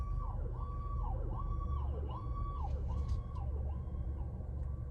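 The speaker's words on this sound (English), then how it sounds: "ambulances, fire trucks, and police cars play a nice little song" Several wailing ambulance, fire truck and police sirens in St. Louis sweep up and down repeatedly, loud and steady over a rumbling traffic background, with no talking.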